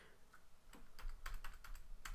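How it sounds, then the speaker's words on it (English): Quick bursts of typing on a computer keyboard: light, irregular clicks of keys, close but fairly quiet, with no voices. "I can start typing its name and it will show up for me here."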